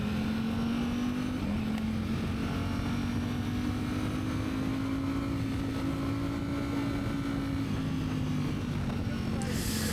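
A Ducati V-twin motorcycle engine on a test ride drones steadily and loudly throughout, its low pitch rising and falling slightly, with heavy wind rush over the sound.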